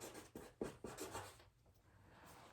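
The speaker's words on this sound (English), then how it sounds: "So we're gonna write fair." Marker strokes writing a word on a board, with a few quick scratchy squeaks followed by a longer soft rub, faint and close with no voices.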